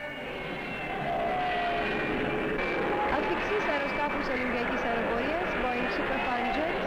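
A 1960s propeller airliner flies overhead on a route to Greece, engine drone swelling after the first second and holding steady and fairly close, with a wavering tonal whine throughout.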